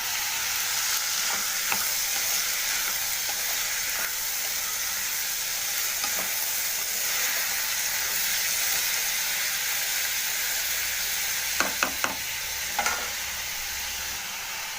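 Ivy gourd curry stirred in a frying pan gives a steady, fairly loud sizzle throughout, with a few sharp scrapes and clinks of the spoon against the pan near the end and no talking.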